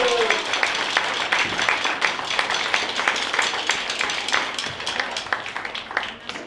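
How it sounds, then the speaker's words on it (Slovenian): Audience at a New Year's Eve celebration in a retirement home gives sustained, dense clapping that fills the room, steady and enthusiastic before tapering slightly at the end. "ko si zaslužil še en velik aplavz"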